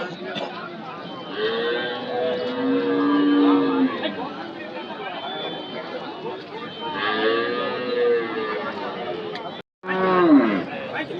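Cattle moo repeatedly at a busy cattle market in Anthiyur, with long low calls rising over the steady murmur of a crowd and people talking nearby.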